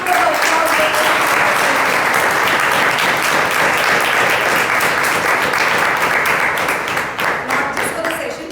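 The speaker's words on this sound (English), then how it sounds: "A big round of applause." A Toastmasters meeting audience gives a loud, dense round of applause that holds steady for several seconds, then thins and tapers off near the end.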